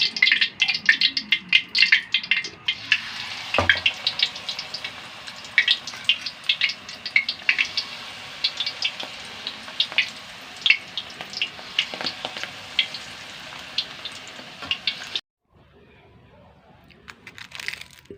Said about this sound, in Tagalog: Ito na yung prito natin.